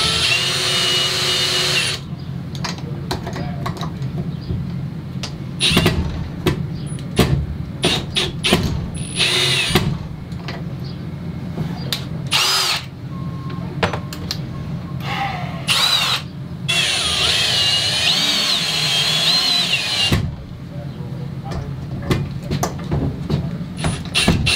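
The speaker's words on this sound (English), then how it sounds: "Let's go put some holes in the ceiling." A power drill bores holes into a trailer ceiling in a long run of loud, close, stop-and-start bursts with short pauses between them. A voice is faintly heard now and then.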